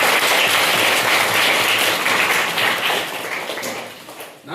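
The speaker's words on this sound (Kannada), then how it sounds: "ನಮ್ಮ ಆರೋಗ್ಯ ಕಾರ್ಯಕರ್ತರಿಗೆ ಒಂದ್ಸಲ ಜೋರಾಗಿ ಚಪ್ಪಾಳೆ ಮಾಡ್ತಾರೆ" An audience claps loudly for health workers at a polio vaccination awareness event, a dense, sustained burst of applause that fades slightly toward the end.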